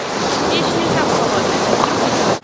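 Sea waves wash onto a beach in Crimea in a dense, continuous surf roar mixed with wind buffeting the microphone, loud and close, with no clear talk.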